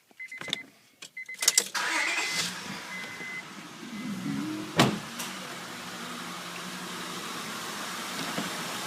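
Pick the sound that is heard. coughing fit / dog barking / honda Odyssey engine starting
honda Odyssey engine starting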